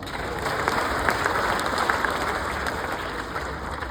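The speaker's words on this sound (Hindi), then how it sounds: "तालियां चाहूंगा" Applause from the crowd at a Hindi kavi sammelan comedy show by Surendra Sharma, dense, even clapping that holds steady and loud throughout.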